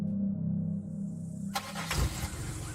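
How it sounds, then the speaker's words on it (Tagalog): A car engine cranks and catches about halfway through, a burst of broadband mechanical noise rising over a steady low hum and settling into a rough idle nearby. "Parang narinig ko po may nag-start ng sasakyan"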